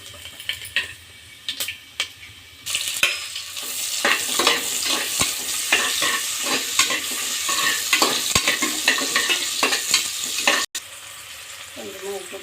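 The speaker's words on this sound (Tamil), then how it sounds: "நல்லா வதங்கட்டும்." Masala spices with cinnamon frying in a pan for tomato rice, a busy close sizzle broken by repeated spoon-on-pan scrapes and clinks, continuous and fairly loud, no voices.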